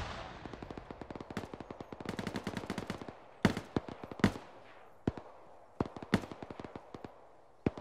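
Gunfire in the military game Arma 3, dense automatic bursts giving way to sharp single and paired shots with echoing tails, loud and fairly close, no voices.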